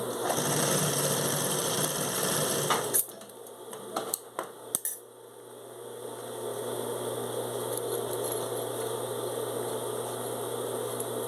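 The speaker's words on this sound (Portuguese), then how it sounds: "E vai passar um pezinho de máquina" Sewing machine stitching a shoulder bag, a steady close mechanical whir that stops briefly amid a few clicks and handling knocks, then resumes at a lower, even hum.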